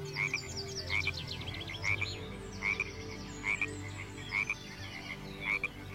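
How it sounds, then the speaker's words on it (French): Frogs croaking by a small pond, a series of rhythmic raspy croaks repeating about every second over a soft outdoor background, with no talking. "Les grenouilles croassent"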